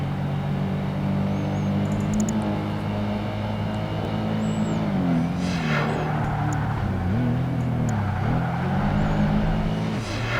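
A sports coupe's engine drones and shifts pitch steadily as it races in Project Gotham Racing 2, a continuous loud run with no voices over it.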